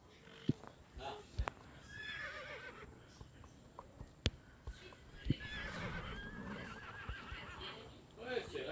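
A Criollo horse whinnies in quick, quavering bursts twice, fairly faint, among background chatter, clicks and knocks.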